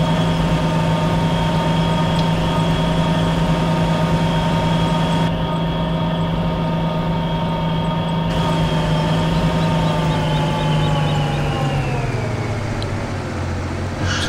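A Claas C540 combine harvester engine in Farming Simulator 17 drones steadily and loudly with a constant harmonic whine, then the pitch slides down near the end as it eases off.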